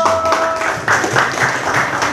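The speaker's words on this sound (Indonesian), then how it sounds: "Oke, tepuk tangan untuk." An audience at a teacher-training presentation claps briefly, a moderate patter of hands in an indoor room, uneven in density, with some voices mixed in.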